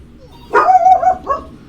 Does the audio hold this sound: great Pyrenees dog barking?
yes